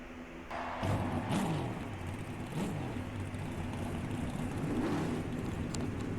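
Race car engines firing up and revving together in NASCAR Racing 2003 at Sawmill Raceway, a steady mid-level drone of many motors with swelling revs, no voices over it.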